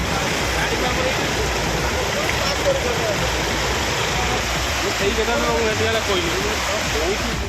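Floodwater rushes and churns steadily after heavy rain in Odisha's Bhadrak district, a loud, continuous broadband roar like a stream or small waterfall, close by, with faint voices in the background.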